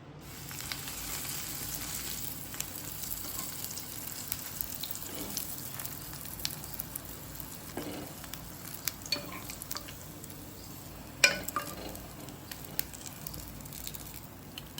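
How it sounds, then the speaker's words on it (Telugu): Bread slices roast in ghee in a pan with a faint, steady sizzle. Scattered small scrapes and clicks sound from stirring, one sharper tap comes near the end, and no one speaks. "ఇప్పుడు మనం బాండీ పెట్టుకొని నెయ్యి వేసుకొని బ్రెడ్ స్లైసెస్ని కొంచెం రోస్ట్ చేసుకోవాలి"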